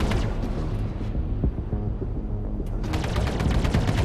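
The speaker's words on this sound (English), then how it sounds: "Fire in controlled bursts" Spaceship ballistic and energy weapons in Star Citizen fire in rapid repeated bursts, loud, close and dense, with a short lull before another volley.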